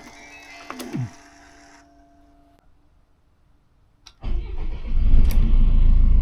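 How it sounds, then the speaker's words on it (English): Boat engines crank and fire up after a quiet pause, settling into a loud, steady, close rumble. "I'll start engines."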